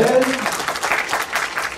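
Audience applause at a Korean comedian's motivational talk, a dense steady patter of many hands clapping that fills the brief moment, with a short voice or tone near the start.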